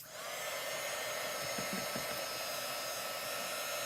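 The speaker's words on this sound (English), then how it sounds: "I'm gonna just use my little dryer so I don't mess that up" A hair dryer blows with a steady, loud, airy roar from start to finish, close and unchanging.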